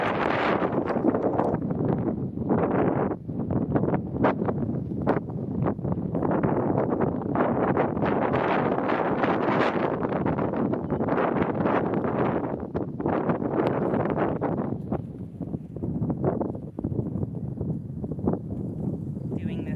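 Steady, roaring wind buffets the microphone outdoors in an off-grid setting, with gusts rising and falling and faint rustling underneath.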